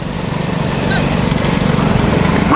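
Racing bulls' hooves pounding at a small-bull bullock cart race, a loud, dense, rapid drumming rhythm close by that runs continuously through the moment.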